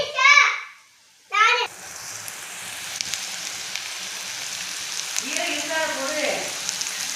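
Pepper, coriander seed and cumin fry with brinjal in a pan, a continuous close sizzle and crackle under brief speech at the start and a voice later.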